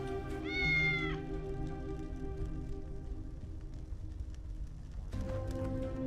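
A cat in the cyberpunk point-and-click game Tales of the Neon Sea gives one clear, drawn-out meow near the start over a steady humming game background, then the ambience continues without talk.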